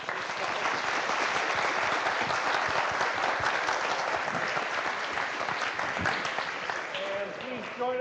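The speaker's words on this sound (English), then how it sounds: "another round of thanks and applause." An audience at an academic lecture on heritability and individual prediction claps steadily in sustained applause that fills the hall, with a voice beginning to speak faintly near the end.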